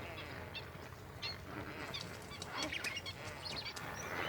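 A large flock of flamingos at Lake Nakuru in Kenya honks and gabbles continuously, a dense distant chorus of overlapping calls that swells slightly toward the end.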